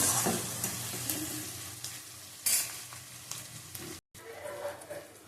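Chicken with whole green chillies sautéing in a pan: a quiet, continuous sizzle broken by several sharp scraping strokes of a spatula stirring the meat, with a brief dropout near the end.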